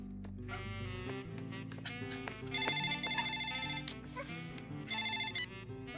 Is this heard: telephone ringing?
yes